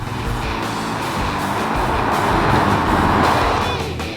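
A 2023 Hyundai Kona N with its 2-liter engine accelerating, a loud continuous broadband roar that builds slightly in intensity and holds steady throughout, heard close from inside the car.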